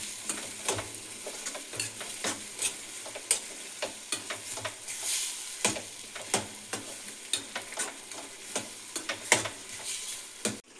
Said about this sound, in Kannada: ನೋಡಿ, ತಿಳ್ಕೊಂಡಿದ್ದೀನಲ್ಲ ಖಾರ, ಅದು ಹಾಕ್ತಾಯಿದ್ದೀನಿ. ಹಾಕ್ಬಿಟ್ಟು ಚೆನ್ನಾಗಿ ಈ ಥರ ಮಿಕ್ಸ್ ಮಾಡ್ಕೊಂಬಿಡಿ.